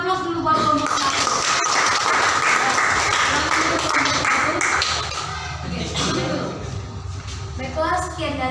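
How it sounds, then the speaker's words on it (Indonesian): A classroom gives group 1 a round of applause, many hands clapping steadily for several seconds while voices talk over it. "berikan aplaus dulu buat kelompok 1"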